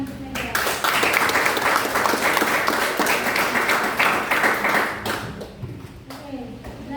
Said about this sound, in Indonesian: Mari tepuk tangan untuk Nadia